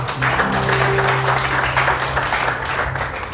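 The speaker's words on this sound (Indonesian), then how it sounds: "Kita beri tepuk tangan dulu." Church congregation applauding during a Sunday worship service, steady dense clapping held evenly throughout with a low sustained tone underneath.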